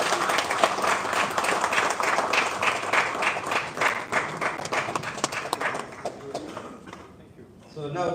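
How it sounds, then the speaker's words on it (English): An awards ceremony audience claps for an honoree, a loud, dense round of applause that holds steady, then thins and fades toward the end with a brief swell at the close. "Sudhir Ruparelia a very big round of applause"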